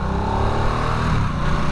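A 2022 Harley-Davidson Nightster motorcycle engine runs loud and close, its rumbling, slightly tinny exhaust note holding a steady throaty drone with uneven pulsing throughout.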